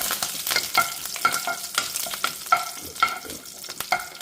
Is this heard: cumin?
yes